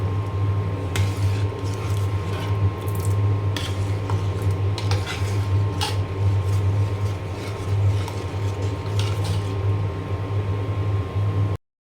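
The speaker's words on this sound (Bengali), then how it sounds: "এটা শুধু নাড়তে হয়, এইভাবে এইভাবে যত নাড়া যাবে তত কিন্তু টেস্ট বেশি হবে।" Khichuri being stirred in a cooking pot, with repeated scraping and clinking strokes of a spoon against the pot over a steady low kitchen hum, close and moderately loud.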